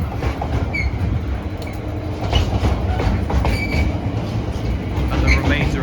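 A Class 345 train passes on the Great Western Main Line at Acton Mainline station, a loud, close rumble with rhythmic clickety-clack of wheels over rail joints and occasional thin squeals.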